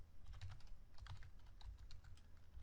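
Steady clicking of keys on a computer keyboard while code is typed, close and fairly loud, in short bursts with brief pauses, no voices.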